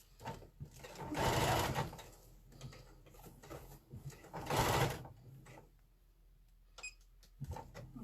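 A home sewing machine stitches fabric for a chicken-shaped pincushion in two short bursts of whirring, with quiet handling noises and a soft click in between, heard up close at low volume.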